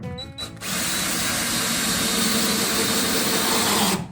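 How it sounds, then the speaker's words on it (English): A power drill whirs steadily for about three seconds as it drives the last screw into the legs of a DIY carpetball table, loud and close, with a short start and stop at the beginning and end. "the last screw for the legs is going in"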